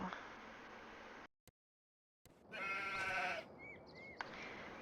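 Sheep in a farming video game let out a drawn-out bleat after a brief silence, clear and close, with game ambience before and after.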